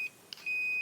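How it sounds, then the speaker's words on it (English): A digital multimeter's continuity beep sounds as its two probes touch together: a clean, steady high-pitched electronic tone, briefly interrupted, then resuming loud and close. "you should hear the sound of the beep."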